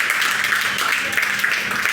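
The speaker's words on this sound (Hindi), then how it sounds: "तालियां बजाओ" Audience applause fills a school awards ceremony at an institute in Karauli, Rajasthan: a steady wash of many hands clapping together, dense and even, with no single claps standing out.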